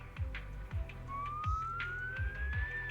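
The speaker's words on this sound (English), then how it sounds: "Oh, there's sirens." A rising electronic siren tone in the video game Zenless Zone Zero sweeps upward over a repeating low mechanical thump, with no voices.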